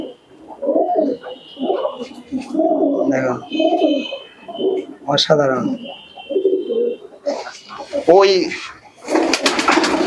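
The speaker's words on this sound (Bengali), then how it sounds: "এত সুন্দর কবুতর আছে" Several pigeons, including Andhra tournament birds and Pakistani-line breeding pairs about three and a half years old, coo in low, throaty rolls inside a loft. Someone speaks briefly over the steady cooing.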